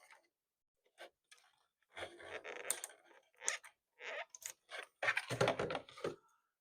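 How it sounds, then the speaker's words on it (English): Tape backing peeled off an RC car body shell, a run of close, crisp crackles and rustling tears in short irregular bursts, separated by brief silences. "Remove the tape backing."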